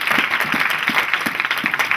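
A church congregation claps together in a steady, rhythmic beat, a dense mass of hands ringing out close and loud with no pause throughout.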